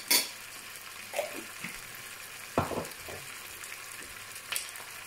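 Spices, including nigella seeds, hit hot oil in a karahi for achari chicken, giving a soft continuous sizzle broken by several scraping stirs and light pan clatters, quiet and close with no talk.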